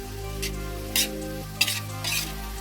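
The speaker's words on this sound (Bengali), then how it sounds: "এবারে সবজিগুলোকে ভালো করে মিক্স করে নেবো।" Mixed vegetables with tomato sauce and black pepper stirred in a pan, a few short scraping strokes of a spoon over a low steady background hum.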